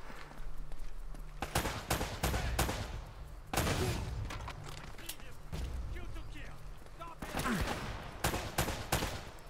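Gunfire in the action game Uncharted: Drake's Fortune Remastered during a firefight, with sharp close shots and short bursts scattered irregularly, some cracking loud, mixed with scuffling movement while someone talks over it.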